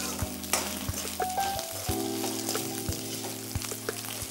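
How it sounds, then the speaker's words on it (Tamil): Jackfruit curry ingredients, including cashews and green chilies, sauté in hot oil with a close, steady sizzle, punctuated by rhythmic scrapes and taps of a stirring spoon against the pan. "இப்போ நல்லா வதக்கணும் அந்த வாசம் போகிற அளவுக்கு"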